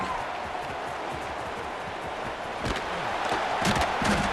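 A stadium crowd at a UTSA at Fresno State football game roars for a punt return, a broad wash of cheering and clapping that swells near the end while a commentator talks over it.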